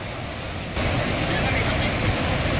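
Athirappilly waterfall in Kerala in heavy flow, a steady loud broadband roar of falling water that jumps louder partway through and holds close and continuous.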